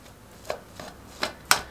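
Four soft, spaced-out thumps of a masher pressing into boiled, cubed potatoes, each one a little louder than the last, in a quiet kitchen.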